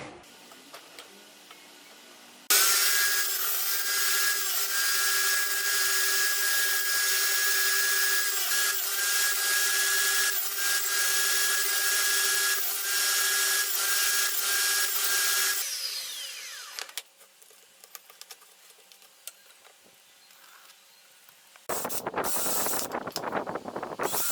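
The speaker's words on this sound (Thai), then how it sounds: "ทำการปรับใบเลื่อย ลงมานะครับ เพื่อที่จะเซาะร่อง ให้มันใส่เจ้าตัวแกนเหล็กตัวนี้ได้" A table saw blade cuts a groove into a wooden board, a loud steady whining buzz lasting about thirteen seconds, followed by quieter clatter and then a brief second burst of cutting.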